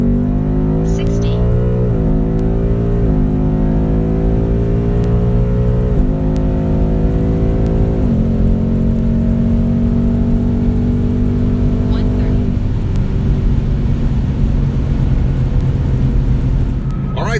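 A Ford Mustang GT pulls hard through a 60-130 mph roll run, its engine note rising repeatedly and snapping down at each of several quick, firm upshifts, loud and close throughout.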